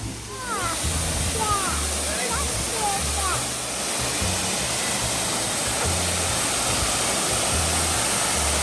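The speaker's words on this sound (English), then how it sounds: "Let's see the waterfall." Steady broadband roar of a waterfall at Castle Hill in Nice, France, filling the whole clip, with faint chirping birds early on and a low rumble underneath.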